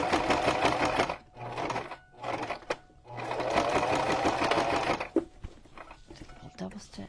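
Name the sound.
sewing machine stitching junk journal cover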